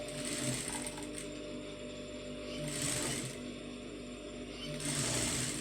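A sewing machine stitches piping onto a garment sleeve, running steadily and close, with its hum swelling and easing in a few surges across the stretch.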